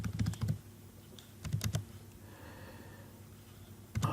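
Short bursts of keystrokes on a computer keyboard, two clusters of rapid taps separated by a quiet pause, close and fairly soft.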